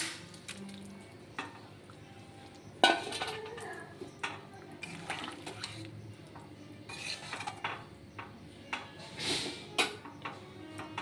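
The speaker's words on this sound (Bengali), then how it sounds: "এখন আমি দিয়ে দেব ভেজে রাখা বড়াগুলো" Fried fritters go into a pot of boiling potato curry with a few sharp clanks of a utensil against metal, soft bubbling and scattered knocks. The sounds are fairly quiet and have no speech over them.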